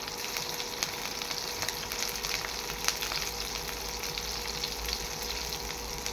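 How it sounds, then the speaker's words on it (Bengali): Chopped green chilli and grated ginger fry with panch phoron in a pan, making a steady, moderate crackling sizzle with faint stirring clicks throughout. "নাড়াচাড়া করলাম, করে একটু ভাজে দেবো"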